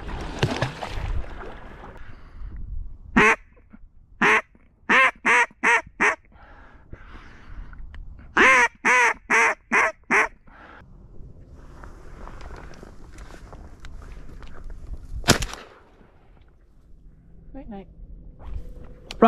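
Mallard ducks quack in two bursts of rapid, evenly spaced calls during a duck hunt on the water, close and loud, with low murmured talk between and a sharp knock near the end.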